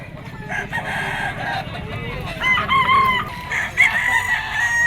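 A gamecock bull stag, national banded, crows at a standing seller's scratch pen. Drawn-out crows sound over a busy market murmur, with another rooster answering close by and a distant voice in the background.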